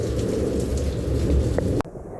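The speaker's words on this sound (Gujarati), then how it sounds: "શું વીજળી થાય છે" Heavy rain pours steadily with a deep thunder rumble beneath it during a downpour in Surat, then the sound cuts off abruptly near the end.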